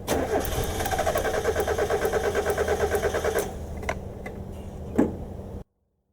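A 1990 Mazda Miata engine cranking without starting: a rapid, even starter-motor chug of close pulses for about three and a half seconds, then it stops, leaving quieter background and a short knock before the end.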